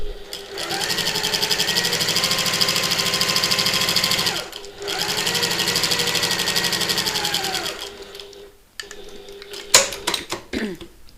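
A sewing machine top-stitches along the top edge of a button lock bag, whirring in two long continuous runs with a short pause between, then stopping, followed by a few handling clicks and rustles.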